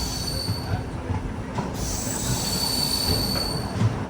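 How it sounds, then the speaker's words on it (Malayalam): A train rolls into a station on the route to Nagore with steady high-pitched wheel squeal over a low rumbling clatter, close and continuous throughout. "ഇതാ നമ്മുടെ ട്രെയിൻ എത്തിക്കൊണ്ടിരിക്കുക"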